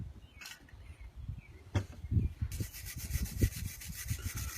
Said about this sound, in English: I'm going to clean it up real good. Scrub it.